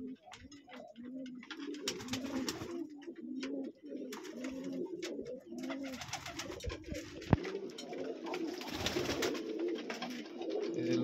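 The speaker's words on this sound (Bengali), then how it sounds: "আমার এখানে ভিন্ন জাতের কয়েকটা কবুতর আছে" Several pigeons of mixed breeds, including Lotan and Jacobin, coo steadily in a loft during cold weather, with rhythmic overlapping throaty calls close by and occasional shuffling and wing sounds.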